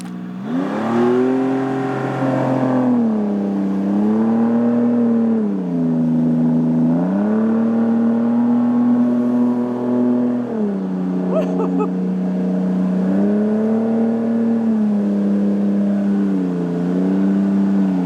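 A motorboat engine drones steadily and loudly throughout on shallow water in Alaska, its pitch rising and falling as the throttle changes.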